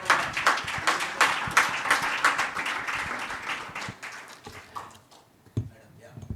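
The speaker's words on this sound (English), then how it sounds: "Give a big clap to" An audience at a conference session claps steadily in a dense burst that fades after a few seconds, with a voice speaking briefly near the end.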